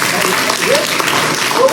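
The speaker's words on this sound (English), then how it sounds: "Let's give these gentlemen a round of applause." Crowd at a business conference gives a short round of applause, loud and dense clapping with voices mixed in over it.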